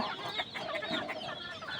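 Chickens and chicks in a poultry house during hot weather, a soft stream of overlapping clucks and chirps, fairly faint and continuous.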